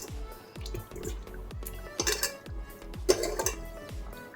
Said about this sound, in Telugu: అన్ని చేప ముక్కలు చూడండి, అన్నీ వేసేస్తున్నాను.